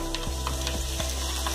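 Chopped ginger and garlic fry in a hot pan for gobi Manchurian, giving a steady close sizzle with occasional stirring scrapes and no talking.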